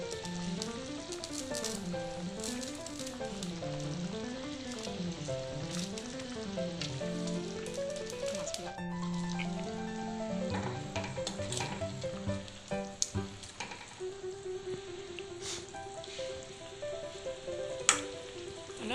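Fish pieces with softened potatoes sizzle steadily in a pan for a fish curry, a continuous close frying hiss with small pops and clatters while background music plays.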